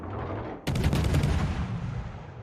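A battleship's guns fire a salvo in World of Warships: quiet ambience, then a sudden heavy blast of several near-simultaneous shots, rumbling and fading away.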